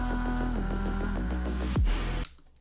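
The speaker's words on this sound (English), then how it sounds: "the song, which sounds like this" An electronic music track plays steadily with sustained synth tones and a pulsing beat, then a rising sweep leads into a brief louder hit before it cuts off.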